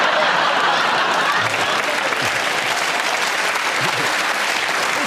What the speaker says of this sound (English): You made a joke and you got a round of applause.